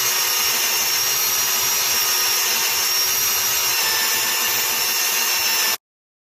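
Lapping compound is worked against a BMW motorcycle lower triple clamp, giving a steady, close, hissing grind that runs unbroken for several seconds and then cuts off abruptly.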